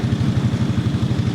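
A boat engine chugs steadily as the vessel heads toward a distant island off Phuket, its low, even throb pulsing in a regular rhythm close by with no voices over it.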